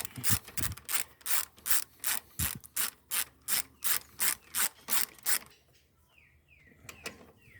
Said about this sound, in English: Torque the bolts up to the correct torque